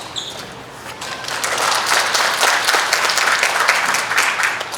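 Warm applause fills a hall at a book launch, beginning moderately and swelling into loud, dense clapping from a sizable crowd that stays strong for several seconds without speech.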